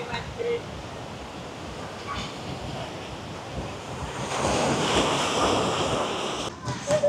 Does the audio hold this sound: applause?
no